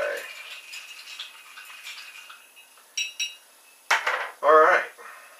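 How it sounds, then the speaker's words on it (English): Ice clinks against the glass as a swizzle stick stirs rum on the rocks, a few sharp rattling knocks standing out near the end, with soft background noise between. "And I'll give it a bit of a stir with this swizzle stick here."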